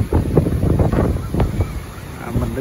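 Wind gusting loudly over the microphone on a pier at Wrightsville Beach, North Carolina, with a steady rumbling roar and a few stronger buffets, no talk heard.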